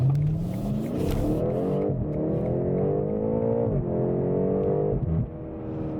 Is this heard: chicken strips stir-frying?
no